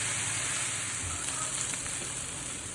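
Boiled jackfruit frying in a pan, a steady close sizzle with soft crackles and a continuous hiss of hot oil throughout.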